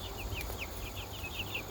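Bantam chickens from a straight-run batch cluck in a quick series of short, close calls over a low steady background hum.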